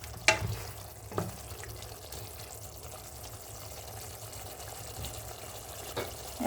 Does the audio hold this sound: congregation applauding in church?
no